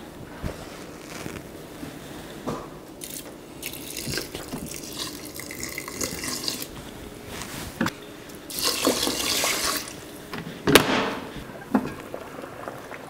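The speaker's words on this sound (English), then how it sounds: "into the rice maker, and I'm gonna add 2 cups of water" Water pours and splashes into a rice cooker in uneven bursts, swelling louder toward the end, with a few clinks and bumps between pours.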